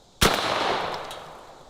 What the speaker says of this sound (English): That suppressor seems to barely do anything to the loudness of that gunshot.